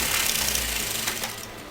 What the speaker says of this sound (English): you're going to put this on top of this and you're going to sew that together